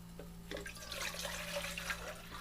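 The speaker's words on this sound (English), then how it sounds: "put a little water in there." Water is poured into a pot on a camp stove, a steady close splashing and trickling flow that runs for a couple of seconds with no talk over it.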